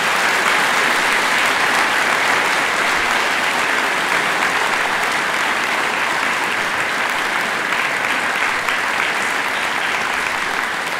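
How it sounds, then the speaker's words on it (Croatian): Big, sustained applause from a large audience at a musical stage show, dense and even clapping filling the hall without a break from start to finish. "jedan veliki aplauz za našeg Milana."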